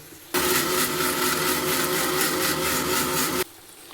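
A mixer grinder blending tomatoes whirs loudly and steadily for about three seconds, starting and stopping abruptly, close by.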